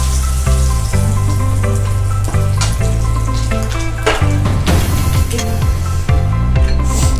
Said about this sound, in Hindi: देखिए कितना अच्छा से ये पूरा मेरा फिश फ्राई हो गया है।